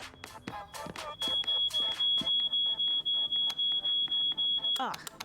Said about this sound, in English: What kind of an alarm is this?